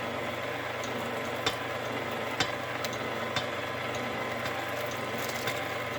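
Stand mixer beating boxed cake batter, a steady whirring mechanical hum with faint scraping ticks, fairly quiet and continuous with no voices.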